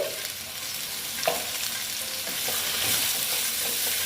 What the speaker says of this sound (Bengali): দিয়ে খুব সুন্দর করে আলুগুলো আমি ফিফটি পার্সেন্ট ভেজে নেব